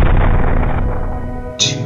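A single loud gunshot bursts out near the end, sharp and close, with a heavy low rumble leading into it and no voices.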